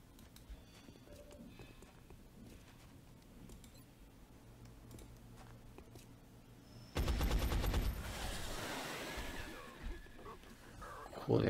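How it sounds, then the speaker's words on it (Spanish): Machine gun fire from the video game XCOM comes as a loud burst of rapid shots after a quiet stretch of low game ambience, followed by ringing echoes and a final sharp crack. "ametralladora."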